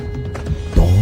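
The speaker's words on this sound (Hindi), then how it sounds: "दौड़ के आने की आवाज" Quick footfalls of someone running up from behind, a short run of rhythmic thuds building to a heavier, closer impact at the end.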